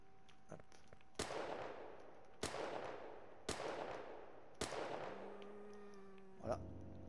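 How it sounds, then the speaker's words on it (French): Four loud shotgun blasts ring out at a steady pace from the zombie survival game Outbreak The New Nightmare, each with a sharp crack and a long decaying tail, then a short mechanical clatter and tone near the end. "si on va prendre le gros fusil à pompe"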